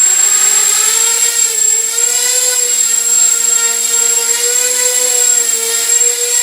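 An Eachine Assassin 180 FPV quadcopter hovers indoors in a small room, its motors giving a loud, steady high-pitched whine with slowly wavering pitch, close and continuous with no voices.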